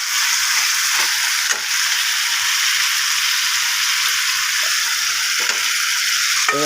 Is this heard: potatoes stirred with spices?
yes